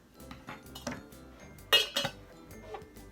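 Chowder ingredients stirred in a bowl, a utensil clinking and scraping against the dish in short irregular bursts, close and fairly quiet, with one sharper knock partway through.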